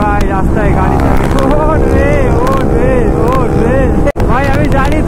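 A Kawasaki ZX-10R motorcycle rides along a road, its engine rising and falling in pitch through repeated revs, loud and close under heavy wind buffeting.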